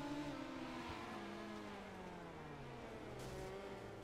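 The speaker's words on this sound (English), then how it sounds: "now we're going to listen to the sound of the motor." A midget race car's engine hums at idle on an iRacing oval at Williams Grove, a faint, steady drone with slowly gliding pitch and no talking.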